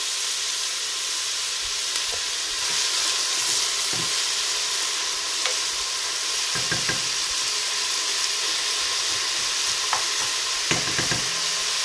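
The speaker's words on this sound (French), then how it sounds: "On va laisser caraméliser les oignons" Onions caramelize over high heat in a pan, giving a loud, constant hissing sizzle with brief clusters of spatula stirring scattered throughout.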